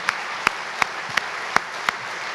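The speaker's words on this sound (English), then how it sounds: "Another round of applause." Audience clapping at an Eagle Scout dinner, a steady wash of applause punctuated by regular loud nearby claps, moderate in volume with no talking.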